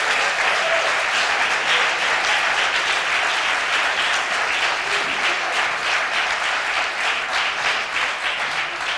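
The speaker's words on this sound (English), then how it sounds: "Let's clap it again for Tim Wise" Sustained audience applause at a library talk with Tim Wise, a thick continuous wash of many hands clapping at steady loudness for the whole stretch.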